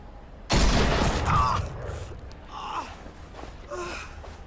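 A single loud gunshot in The Walking Dead Final Season video game, a sharp blast followed by a decaying tail, then quieter gasps and breathy vocal sounds.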